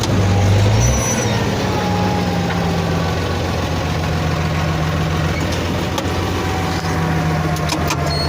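An URSUS 1634 tractor pulls a seed drill across a field while sowing rapeseed in early September and turns at the headland. The engine drones loud and steady throughout, with no voices.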